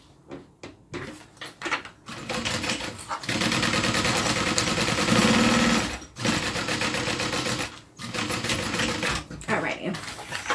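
A sewing machine top stitching a small zip-around wallet, running in loud bursts of rapid mechanical needle clatter separated by brief pauses, close up and without talk.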